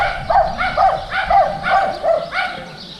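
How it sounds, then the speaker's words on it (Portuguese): A small dog barks repeatedly in a steady series of about five or six sharp, close, loud yaps near a beach with a waterfall. "Cachorrinho infernizando aqui."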